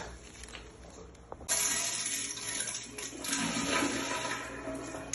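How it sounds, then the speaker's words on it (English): A toilet with a freshly rebuilt Sloan flush valve flushes with a sudden loud rush of water that holds steady and strong for several seconds, close up in a tiled restroom. "The first flush may take a little bit longer."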